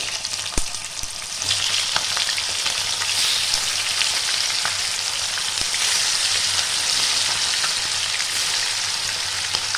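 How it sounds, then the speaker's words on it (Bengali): Chicken pieces fry in hot oil with a steady, dense sizzle and crackle that runs evenly throughout, close and fairly loud, with no voices. "আমি চিকেনগুলো ভেজে নেবো"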